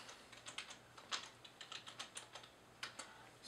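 Fingers tap a computer keyboard resting on a lap during a Raspberry Pi 3 first boot, giving quiet, close, irregular clicks in short bursts with small pauses between.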